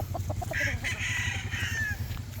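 Young gamecock stag clucking in a series of short close calls, followed by a longer raised squawk, over a low steady hum in the background.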